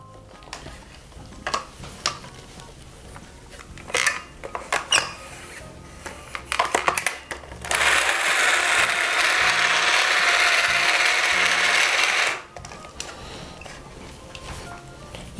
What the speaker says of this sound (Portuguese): a batedeira,